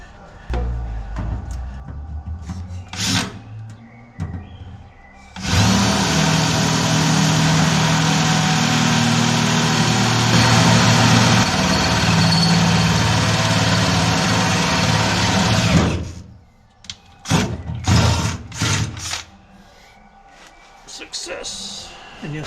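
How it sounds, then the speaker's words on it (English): A power drill bores two holes for exhaust bolts through a storage box on an American skoolie bus conversion. It gives a loud, sustained whirring grind of about ten seconds, with quieter knocks and handling noises before and after. "Just gonna drill 2 holes up there and then bolt it in"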